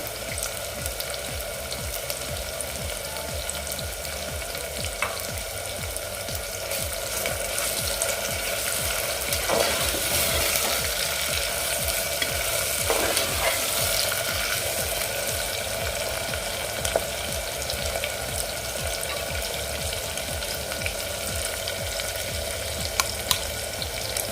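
Soft tomatoes with spices frying and being stirred for masalebhat, a steady even sizzle with occasional faint scrapes and clicks from the pan, no talking.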